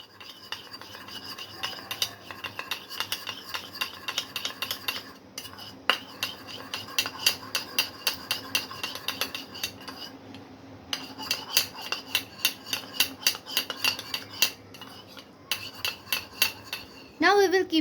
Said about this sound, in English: 1 teaspoon corn flour, and mix it very well.